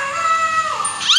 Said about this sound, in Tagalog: Uy, siya may aso.